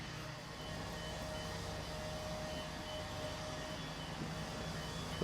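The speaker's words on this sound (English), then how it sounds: "A little bit of plant on the move, little dumper truck." Steady low engine drone of a small dumper truck moving nearby on a building site, with a faint whine over the rumble and no voices.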